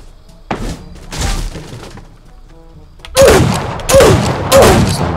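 Video game gunfire, loud close shots, one early crack and then three hard, evenly spaced bursts toward the end with muffled game noise between them.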